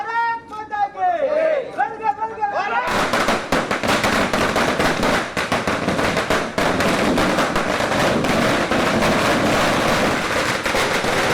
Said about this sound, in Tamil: தன் கையாலேயே பட்டாசு கொளுத்தி